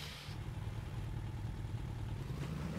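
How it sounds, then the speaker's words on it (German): A motorboat engine hums steadily in the survival game Sunkenland, a low, continuous rumbling drone heard alone at moderate loudness with no voices. "Also, wir haben ein Motorboot."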